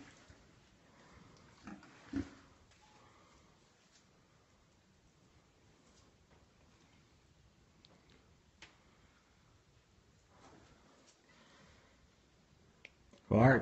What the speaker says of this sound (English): These sure are nice pigs.